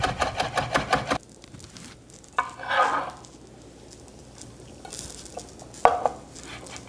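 Chopped parsley being mixed into an asparagus orzo salad, with a run of rapid rhythmic scraping and tapping at the start, then soft stirring rustles and a couple of sharp utensil clinks, close and fairly quiet.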